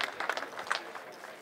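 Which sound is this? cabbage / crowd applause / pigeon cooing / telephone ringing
crowd applause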